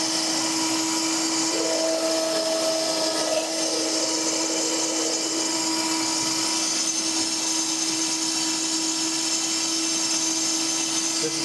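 A kitchen blender runs steadily at high speed, blending macadamia nut yogurt with a constant whirring drone that stays loud and even throughout.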